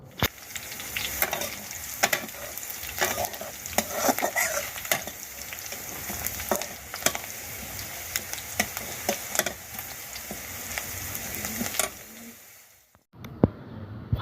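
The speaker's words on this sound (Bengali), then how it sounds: "ফার্স্টে আমি পেঁয়াজ রসুনটা একটু ভেজে নিলাম" Onion and garlic fry on a stove for a bitter gourd dish, a continuous soft sizzle with frequent ticks and clicks of stirring, fading to near silence near the end before a final knock.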